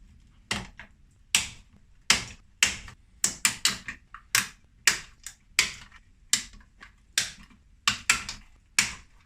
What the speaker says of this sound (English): I have to cut the previous speaker wire